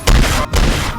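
Two loud, close gunshot blasts from a gun in the video game Dead Rails, each a dense booming crack about half a second long, separated by a brief dip.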